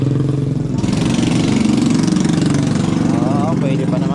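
A motorcycle engine idles in floodwater with a steady, close chugging putter, while someone talks over it.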